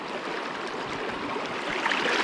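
Fast-moving water in a wide creek rushes steadily nearby, a constant broad hiss of flowing current with no voices.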